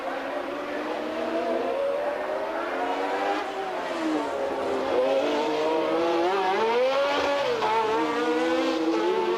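Pironi's Ferrari Formula One car racing in the 1981 US West Grand Prix, a loud, continuous high engine wail that rises and falls with gear changes, with other cars blending in.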